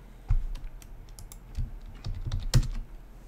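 Clicky taps on a computer keyboard at a desk, several irregular bursts of keystrokes close to the microphone with short pauses between them and no talking.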